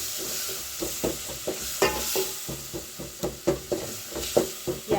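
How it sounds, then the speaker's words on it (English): A spoon stirs tomatoes in a pan over the heat, giving repeated soft scraping strokes in an irregular rhythm with a faint sizzle underneath, close and fairly quiet. "We go ahead and shake our tomatoes."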